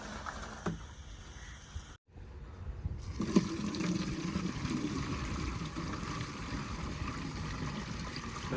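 Water pours into a sprayer tank being filled for herbicide spraying on a kidney bean field. After a brief pause, a steady rushing, gushing flow starts and continues at close range.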